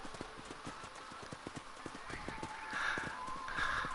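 A horse's hooves clip-clop in Red Dead Redemption, a steady, fairly quiet trotting rhythm over soft background ambience that swells slightly toward the end.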